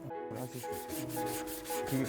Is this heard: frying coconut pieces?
no